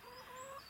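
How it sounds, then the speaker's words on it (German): A single hen, one of a flock of about sixty and lame in the legs, gives a brief, faint cluck, heard alone with no talking. "Darf ich vorstellen, mein Huhn."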